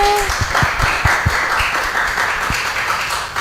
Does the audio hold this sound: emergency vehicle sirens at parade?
no